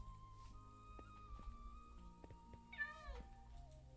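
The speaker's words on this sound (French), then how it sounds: "Il me fait chier à miauler là tout le temps." A house cat gives one short, faint meow partway through, well in the background under a quiet steady hum and faint game tones.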